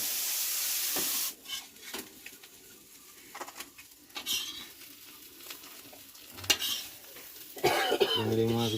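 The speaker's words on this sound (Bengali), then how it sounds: "মাছগুলো ভাজা হয়ে গেছে" Fish sizzles and spatters in hot oil, with scraping stirs and a brief cough partway through, a steady crackling hiss throughout.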